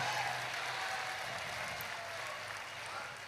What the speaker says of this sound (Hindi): जोरदार ताली बजा के धन्यवाद दो।